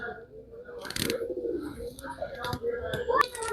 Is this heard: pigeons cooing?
yes